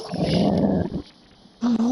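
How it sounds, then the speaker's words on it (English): A dog growls close and loud for about a second, a low rumbling snarl, followed by a quieter gap and then a higher whine or whimper. "Do you hear my dog?"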